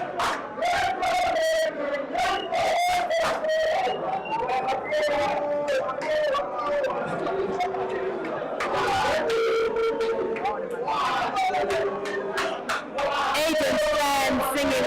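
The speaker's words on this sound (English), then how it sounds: "Aden's fans singing one more here, cheering him on." A crowd of supporters at a Queens International competition sing and cheer for a competitor, a loud, sustained wall of chanting voices with rising shouts and whoops throughout.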